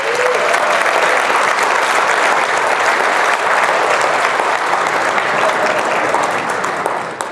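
An audience at an evening business event breaks into loud, sustained applause, dense clapping continuing evenly without pause for several seconds.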